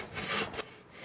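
Athabascan women in Nikolai, Alaska, hand-saw wood in a friendly contest, two rasping strokes of the blade in a second, close and fairly loud.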